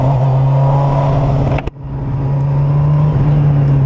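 A Honda CBR600F motorcycle with a sport exhaust runs close by at a steady, loud, droning pitch, with a brief sharp break partway through before the engine note carries on.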